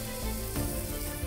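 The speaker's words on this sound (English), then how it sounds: "frying them until they're nice and golden brown" Hake goujons in a creamy coating fry in a pan, giving a steady dense sizzle throughout, close and alone.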